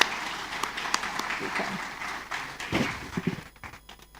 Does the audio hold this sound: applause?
yes